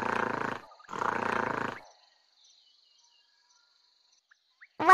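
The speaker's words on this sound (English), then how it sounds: "We growl softly when we're happy." Two deep, rumbling mountain gorilla growls, each about a second long, close and fairly loud, followed by near silence.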